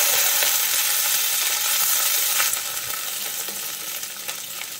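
Garlic frying in hot oil for an ambazhanga pickle: a steady, loud, close sizzle and crackle that holds for the whole stretch, easing slightly halfway through, with no talking.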